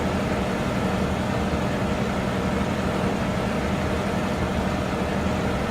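The ERJ 175 jet engines run steadily after start in Flight Simulator X, heard from the cockpit as a constant broadband roar with a low drone, unchanging throughout.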